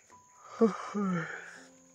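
Labored, heavy breathing of a person struggling for air, a short wheezy inhale and exhale close by, raspy and strained, heard alone.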